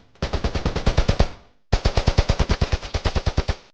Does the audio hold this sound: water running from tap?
no